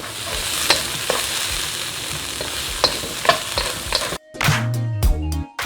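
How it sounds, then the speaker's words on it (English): Fresh sweet peas and carrots cooking in a hot pan, a steady crackling sizzle broken by sharp spatula taps and scrapes, then louder clanking stirs toward the end, close with no talk. "Add the fresh sweet peas and the carrots, and let it cook for about 5 minutes"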